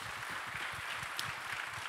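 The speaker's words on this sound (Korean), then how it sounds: "박수하겠습니다." Faint, steady applause from a Korean church young adults' group gathering, a dense wash of clapping lasting about two seconds with no voices over it.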